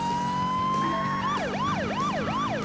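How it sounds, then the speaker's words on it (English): Police car siren in the Burnout 2: Point of Impact racing game, a loud wailing tone sweeping up and down in steady repeated cycles of about half a second, with a steady engine drone underneath. "You can change the siren?"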